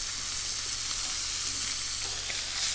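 A steak sizzles in a frying pan, a loud, continuous crackling hiss heard close up and fairly even throughout, with no talking.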